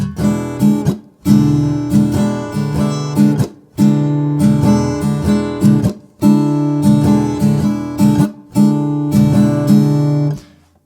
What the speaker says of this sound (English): Now the strumming pattern is going to sound like this